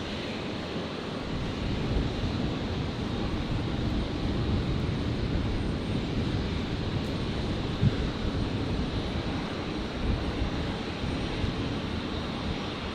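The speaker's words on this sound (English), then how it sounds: "The Air New Zealand's 321 Neo has made its very short taxi." Steady, broad roar of jet engines near Brisbane Airport at sunset as an Air New Zealand Airbus A321neo taxis, a continuous wash of engine noise with slight wind, no talk.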